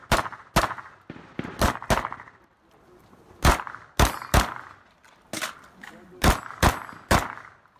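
Repeated sharp shotgun cracks at a Russian shooting championship, around a dozen loud bangs at irregular intervals, with some muffled noise between them.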